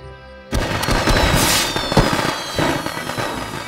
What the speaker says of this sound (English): Got the fireworks?